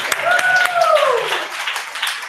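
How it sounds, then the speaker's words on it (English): Applause rises from the audience at a maker educator convening, quick dense clapping with a whooping cheer sliding down in pitch over it, then tapering slightly. "give a big round of applause to Casey"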